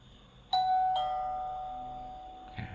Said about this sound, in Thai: ก็จะเป็นการ เปิดเสียง ดอเบลแบบนี้ครับ